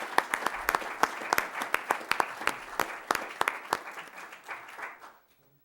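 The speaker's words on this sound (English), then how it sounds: "let's clap again, because I just think it's a really huge accomplishment" A city council meeting audience in Bellevue applauding, a modest group of distinct, fairly sparse claps that taper off and stop after about five seconds.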